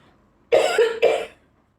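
Two quick, harsh coughs close up, back to back, in an otherwise quiet room.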